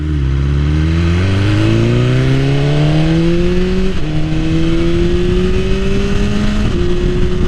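A BMW S1000RR motorcycle fitted with an SC Project exhaust accelerates hard, loud and close, climbing through gears with sharp upshifts.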